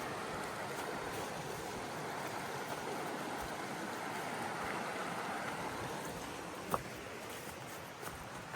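Big Wilson Stream in the 100 Mile Wilderness rushing steadily over rocks, a dense continuous broadband wash heard close up, with a single faint click near the end.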